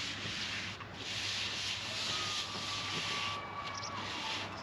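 A scraper rubs steadily across a Kampa Fry Up XL teppanyaki griddle, pushing off fat and cooked bits in a continuous, fairly quiet gritty scrape with no voices.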